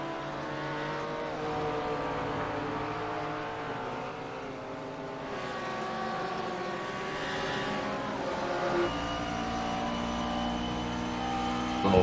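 A McLaren GT3 race car engine in a sim racing game drones steadily at high revs, its harmonic whine holding fairly constant with slight pitch shifts, loud and alone throughout.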